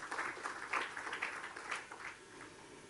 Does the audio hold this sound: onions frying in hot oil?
no